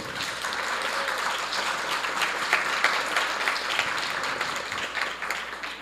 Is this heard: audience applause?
yes